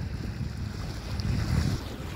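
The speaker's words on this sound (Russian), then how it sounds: "Это развивается наш флаг." A flag flaps in the wind aboard a motoring sailboat, the rustle mixed into loud wind noise on the microphone and the rush of water past the hull, rising slightly toward the end.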